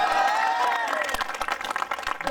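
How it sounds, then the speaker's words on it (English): A congregation claps at a church service, quick overlapping hand claps rising in density over a sustained tonal voice or music, with crowd noise and a mix of cheering underneath, fairly loud and close. "Come on, let's clap for Jesus."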